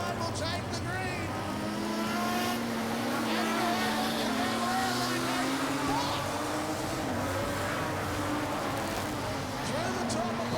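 Modified production race cars roar around Gympie Speedway on a restart, a steady engine drone with rising and falling revs, while a commentator talks over it throughout.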